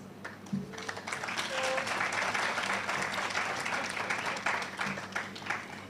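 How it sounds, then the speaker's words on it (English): An audience at a civil servants' awards ceremony claps for a named nominee, a sustained round of applause at moderate level with a faint voice or tone briefly audible beneath it. "acknowledge each person individually with a clap"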